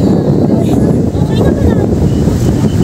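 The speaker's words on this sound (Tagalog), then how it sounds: "Ang lakas ng hangin." Strong gusty wind roars and buffets the microphone at an outdoor amusement park, a loud continuous rush filling the whole moment.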